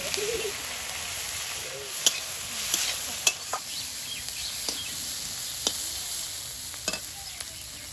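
Steady hissing sizzle of prawns frying in hot oil, with occasional sharp clicks and pops over the constant crackle.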